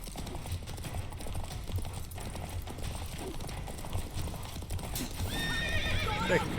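Roach, Geralt's horse in The Witcher 3, gallops with rapid, steady hoofbeats, then lets out a sharp whinny near the end over the game's ambient backdrop, with a voice briefly heard.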